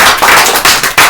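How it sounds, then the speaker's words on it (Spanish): A congregation at a Spanish-language church service breaks into a short burst of loud applause, a few dense swells of clapping from many hands close by. "dale un fuerte aplauso"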